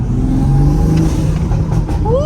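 A Toyota Supra MK5 turbo fitted with a CTS intake revs loudly and close by, its engine note climbing in a couple of rising sweeps over a steady idle rumble. Someone talks briefly over it.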